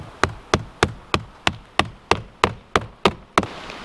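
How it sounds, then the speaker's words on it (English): Hammer driving a roofing nail into an asphalt ridge cap shingle on a roof: eleven sharp, evenly spaced blows about a third of a second apart, close and clear with no talk. "I'm going to put my first roofing nail."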